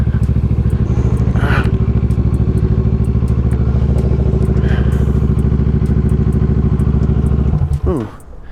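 A motorcycle engine idles close and loud with a steady, throbbing low rumble, then cuts off near the end, followed by a brief clatter.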